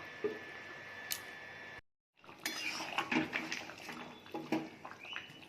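Metal lid placed over a pot of curry on the stove: a short pause, then a cluster of clattering clinks and scrapes of metal on metal, close and fairly loud, with no voices.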